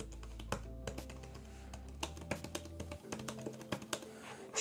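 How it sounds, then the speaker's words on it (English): Typing on a tiny, teeny Bluetooth mini keyboard, close up and alone: irregular quick clicks and taps of small keys, some louder strokes standing out over a faint low hum. "Let's see how it types."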